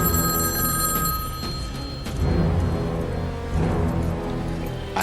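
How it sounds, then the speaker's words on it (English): A telephone bell rings repeatedly in a 1995 action movie scene, steady trilling bursts over a busy background of ambient noise, with no talking. "I have to answer that phone."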